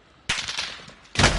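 Two sharp bursts of gunfire in a battle royale video game, a rattling volley followed by a short gap and a second loud burst, close and dominant.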